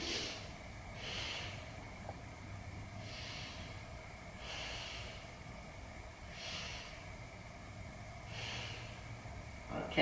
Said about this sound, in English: So let's take 3 breaths here.